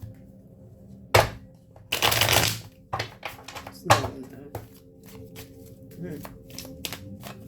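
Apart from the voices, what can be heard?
shuffling tarot cards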